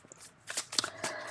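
Tarot cards being drawn and shuffled during a card reading, with a few soft papery swishes and slaps spread across a quiet moment, close and fairly faint, with no talking.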